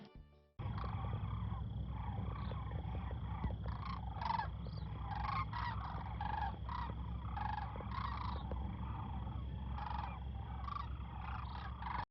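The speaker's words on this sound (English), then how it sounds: "These are sandhill cranes. You'll be able to hear the sound of them here in a minute." Sandhill cranes call at a campsite, a steady series of loud rattling, bugling cries repeating throughout over a constant low background rumble, with no talking.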